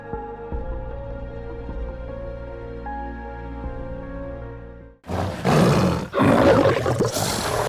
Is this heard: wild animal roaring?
yes